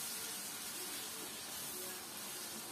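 Carrots hit a hot pan for plov and sizzle in a steady, dense, close hiss that holds evenly throughout.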